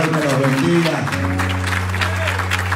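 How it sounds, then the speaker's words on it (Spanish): A church congregation claps in a steady wash of applause for their pastors while a sustained tone, like an organ or keyboard chord, holds loudly beneath it. "Denle un fuerte aplauso a sus pastores"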